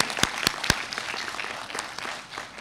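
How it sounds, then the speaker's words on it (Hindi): An audience at a culinary workshop's valedictory function applauds Rahul: a few sharp, loud claps up front, then a sustained, even patter of many hands clapping together. "राहुल सर के लिए ताली बजाइए"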